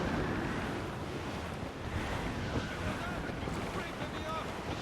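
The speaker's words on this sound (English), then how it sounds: "This gale's got teeth, Captain." Howling gale wind with heavy sea waves washing around a sailing ship in Assassin's Creed Black Flag, a loud and steady roaring wash that holds without break.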